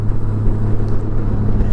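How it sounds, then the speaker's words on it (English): A 2024 Honda GoldWing motorcycle engine pulling under throttle during a ride, a loud, close, steady low rumble mixed with road and wind noise. "If I dig into the throttle there, you can hear it and feel it engage"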